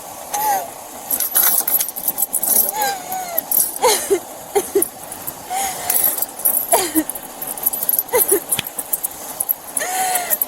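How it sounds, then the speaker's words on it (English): Work keys on a ring jangle and clink repeatedly up close while people talk during a roadside traffic stop. "Those are my work keys."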